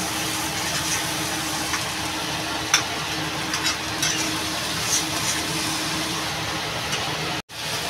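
Spice masala for stuffed bitter gourd sautéing in a pan, a steady close sizzle and frying hiss with a few soft stirring scrapes and a brief dropout near the end.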